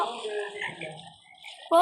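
A frog croaks in short, rough bursts close to the listener, the calls fading in the middle before a sharp sound at the end, with someone talking over it.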